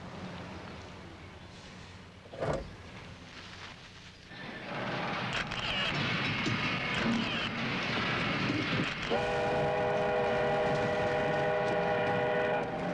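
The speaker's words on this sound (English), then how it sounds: "Just a work whistle. Probably means lunch." A loud sustained whistle blows steadily for several seconds over a rumbling background, following a brief thump; no one speaks.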